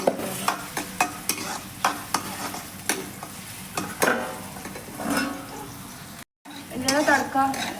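Onions, garlic and green chilli frying in a pan for a village-style cabbage dish, with repeated stirring scrapes and clinks over a steady close sizzle; a brief silent gap near the end.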